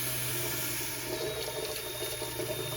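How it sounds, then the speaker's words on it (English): A Tecmolog wall-mount commercial pot filler faucet above a stove in an industrial-style kitchen runs with a strong, steady, continuous rush of water, close and alone. "Got great water flow."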